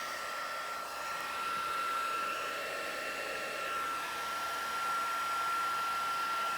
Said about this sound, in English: So I'm going to quickly heat that up.